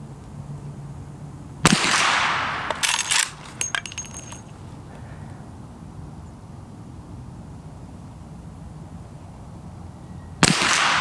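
A Henry Big Boy .357 lever-action rifle fires two loud, sharp shots about nine seconds apart. Metallic clatter from working the lever follows the first shot, with quiet outdoor ambience between.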